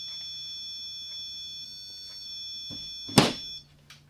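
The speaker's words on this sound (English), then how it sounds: "It will set off the REM pod because of the electromagnetic field put off from these." A REM pod ghost-hunting device sounds a steady multi-tone electronic alarm beeping faintly in the background, cut by a brief loud clunk near the end before the tones stop.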